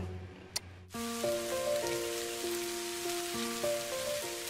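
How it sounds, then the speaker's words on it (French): Light rain falls in a steady soft patter after a brief click at the start, with faint tonal sounds drifting in the background. "La pluie. La petite pluie."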